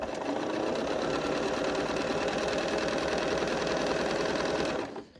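Sewing machine running at a steady fast pace, stitching quilt strips together, with a dense continuous mechanical whir close up that stops abruptly near the end.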